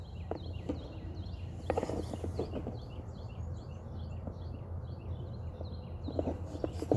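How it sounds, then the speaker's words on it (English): Several birds chirp and trill in quick, high bursts over a low steady background hum, moderately distant, with no talking. "Let's listen to these birds while they're singing for a bit."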